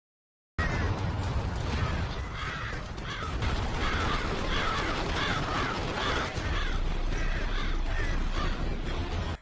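Many crows caw repeatedly, their harsh calls overlapping in a dense, continuous chorus at moderate volume with no talk.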